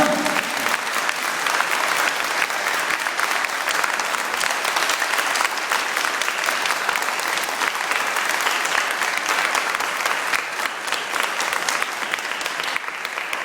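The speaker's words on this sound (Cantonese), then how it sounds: "我哋應該拍手掌" A rally audience at a People Power volunteer meeting in New Territories East claps in steady, sustained applause that holds at an even, full level for the whole stretch, with a faint murmur of crowd beneath.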